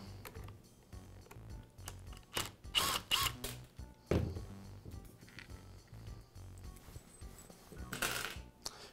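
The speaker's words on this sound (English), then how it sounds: "I'll remove the 4 screws that secure the gearbox to the motor housing." Small screws being backed out of the gearbox on a Makita polisher during an armature bearing repair, with several close metallic clicks, scrapes and rattles of screwdriver and parts, no talking.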